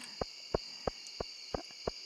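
Nighttime crickets in the video game Stardew Valley chirp in six evenly spaced, short bursts over a steady high insect drone, moderately loud with no voices.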